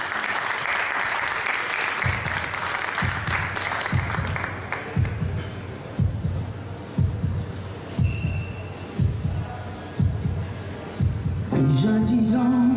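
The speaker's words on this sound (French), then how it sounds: "on l'encourage, on l'applaudit s'il vous plaît" Live studio audience applauding a singer on a French TV variety show, steady clapping under a repeated low rhythmic thumping, ending as music starts.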